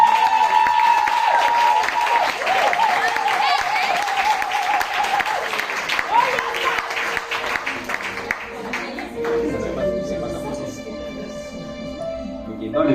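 A church congregation applauding and cheering in praise, dense sustained clapping filling the room with crowd voices, alongside a speaker's voice and music that continue as the clapping thins toward the end.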